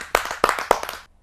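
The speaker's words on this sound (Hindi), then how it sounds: "आप सबकी जोरदार" Three quick bursts of hand clapping from a small audience at a Hindi poetry gathering, sharp and close, fading out after about a second.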